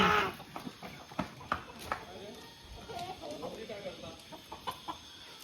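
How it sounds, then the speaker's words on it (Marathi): A caught village rooster clucks in short, scattered bursts close by, with people talking intermittently in the background. "कोंबडा पकडा हुआ है कोंबडा"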